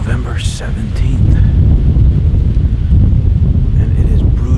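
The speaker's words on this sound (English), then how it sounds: "it is brutal, brutal windy" Strong wind buffets and roars across the microphone in heavy, continuous gusts.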